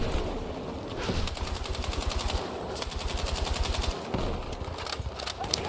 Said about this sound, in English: I'm just blindly shooting into an alley.